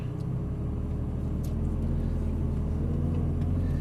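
A Ferrari 458 Italia engine rumbles steadily at low revs as the car rolls off slowly from a standstill, a constant deep drone with no sharp revving.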